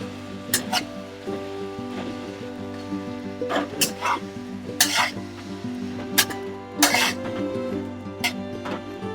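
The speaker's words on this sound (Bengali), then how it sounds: "এই মাছটাকে আমি একটু ভালো করে নাড়াচাড়া করে ভেজে নেব" Bhetki fish pieces seasoned with salt and turmeric are stirred and fried in a pan, with a steady sizzle under repeated bursts of spatula scraping and clatter, loud and close, over a constant low hum.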